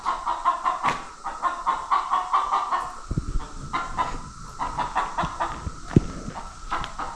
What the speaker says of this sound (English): Oh, we got an angry shop chicken.